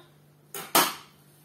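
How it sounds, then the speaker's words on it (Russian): A knife cuts dough into portions for cabbage pies, giving two quick sharp knocks against a board in close succession, the second louder, in a quiet kitchen. "Порционно порежем тесто."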